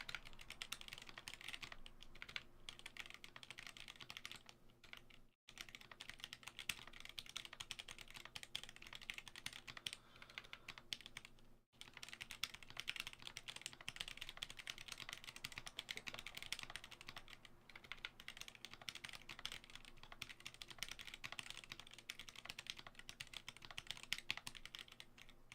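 Continuous fast typing on a GMMK Pro mechanical keyboard fitted with unlubed Zealpc Tealios linear switches, dense steady clacking close up for about half a minute with two brief pauses.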